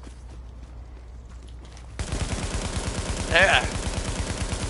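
Fast automatic gunfire aimed at rats in the video game Tom Clancy's The Division erupts after a quieter opening and rattles in a steady, rapid rhythm, with a brief voice cutting in.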